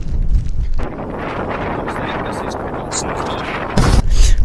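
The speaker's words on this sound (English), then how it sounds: "it's very, very windy" Strong gusting wind buffeting the microphone on a Lake District fell summit in the Dodds, a loud continuous rumbling roar with sharper blasts near the end.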